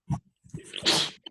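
A single sharp sneeze bursts out in a classroom during a math lesson with a breathy, hissing release, followed by a brief faint sound at the end.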